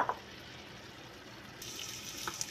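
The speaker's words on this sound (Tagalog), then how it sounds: "Lagyan natin ng konting tubig para may sauce, may gravy." Water runs steadily into a pan, a soft continuous splashing with a brief brighter clatter near the start and end.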